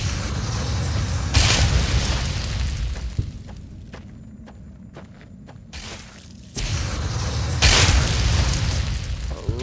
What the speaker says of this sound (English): I love it when they explode